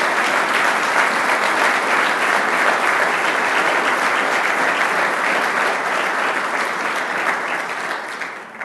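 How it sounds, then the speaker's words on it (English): Sustained audience applause fills the hall at a State of the County address, a dense, steady roar of many hands clapping that holds for about eight seconds and then starts to taper, with no talk over it. "let's give him a round of applause, Dr. Elaine Calleros."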